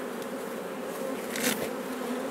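A steady, dense buzz of many honey bees swarming close by at a top-bar hive, continuous and droning with a brief swell in the middle.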